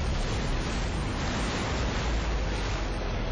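Loud, steady roar of high ocean waves from a cartoon rescue scene, a dense continuous wash of surf with no pauses and no voices.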